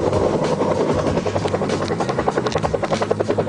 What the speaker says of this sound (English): Helicopter's in place.